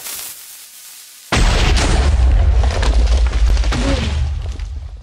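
A Minecraft TNT cannon explosion erupts suddenly after a quiet moment and becomes a loud, sustained booming roar that carries on to the end.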